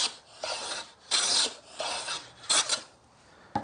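A hand plane takes full shavings along a wooden board for a plate rack, several rasping strokes about half a second each, separated by short pauses, close and crisp.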